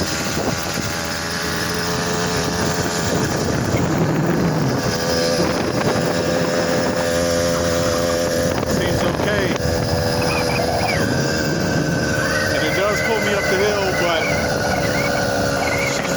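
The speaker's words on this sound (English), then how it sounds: "It's a 100cc engine kit." A 100cc two-stroke motorized bicycle engine kit, running weak, drones and strains steadily climbing a hill, its pitch wavering under load, with wind buffeting the microphone throughout.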